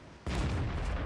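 A single heavy cannon shot from a tank in World of Tanks, a sudden loud boom followed by a rumbling decay, with no talk.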